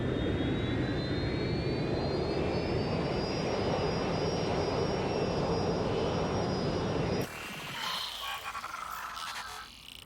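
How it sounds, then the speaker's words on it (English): A large airliner flies in the video game Watch Dogs Legion, giving a steady, loud jet-engine drone with a faint rising whine. The drone cuts off abruptly after about seven seconds, leaving quieter, uneven game sound. "Delta 39 Heavy, requesting immediate assistance. Rerouting plane."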